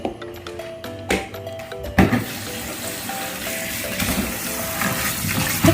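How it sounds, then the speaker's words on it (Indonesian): A handful of herbs for a kidney-cleansing brew being rinsed under running water, with clinks and knocks early on giving way to a steady splashing flow from a tap close by. "Nah kita cuci bersih."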